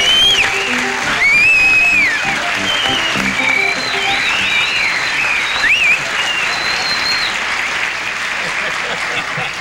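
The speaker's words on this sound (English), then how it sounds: "Instead of applauding, the audience whistled for you." A studio audience on a 1979 television talk show whistles loudly for a national whistling champion instead of applauding, sliding pitched whistles ringing out over a bed of crowd noise and clapping.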